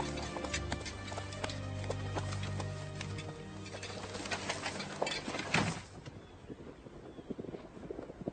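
Horses clip-clopping at a steady walk with hooves striking ground, fairly close, then the hoofbeats fade into quieter outdoor ambience with faint birds.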